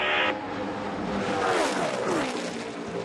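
NASCAR stock cars race at Michigan, a loud roar of several engines sweeping past with rising and falling pitch, the whine of a passing car bending downward, and an announcer's voice faintly under the noise.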